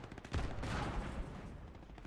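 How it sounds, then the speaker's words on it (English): Sustained burst of .30 cal machine gun fire in the WWII game Gates of Hell, fired from near a Sherman tank, rapid loud rattling that swells after a brief start and holds steady before tapering slightly, with no talk. "Here I'm actually trying to spin it around and get it to where I can fire the 30 cal still in front of the Sherman"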